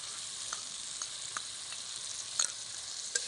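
A paste of ground coconut and poppy seed being mixed in a frying pan for potol dorma curry makes a soft, even sizzle with a few light scraping taps from stirring.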